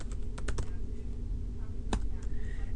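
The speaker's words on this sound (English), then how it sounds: "I'm just going to type polygon" Quick bursts of keystrokes on a computer keyboard, a cluster of clicks followed by a pause and a few more taps, close and clear with no talking.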